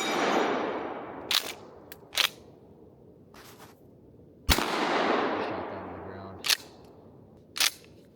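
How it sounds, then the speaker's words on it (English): A $275 shotgun fires a mini lead slug into a target, one loud sharp blast with a long decaying echo, plus several short sharp clacks of handling before and after, outdoors and without speech. "We'll shoot one of the slugs into the target"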